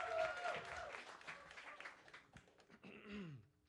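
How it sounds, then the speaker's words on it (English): Audience at a NOLAxNOLA talk clapping as a speaker is introduced, a brief round of applause that fades out toward the end while voices come in. "I need some applause"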